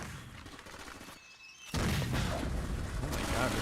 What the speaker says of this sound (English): Oh my god, there's so many explosions.